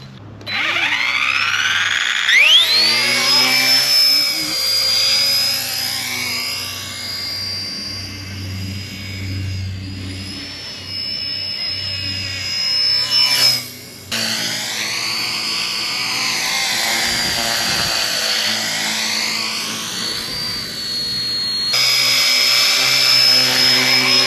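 Radio-controlled ERA UH-1 model helicopter in flight, its rotors and motor giving a loud, close, continuous high whine that rises and falls in pitch as it maneuvers, with a brief dip partway through.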